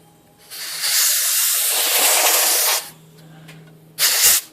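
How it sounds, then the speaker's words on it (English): Compressed air blasts over inky typewriter type slugs being cleaned with lacquer thinner: a long loud hiss of about two seconds, a softer pause, then a short final burst, close by with no talking. "So now I'm going to hit it with some air."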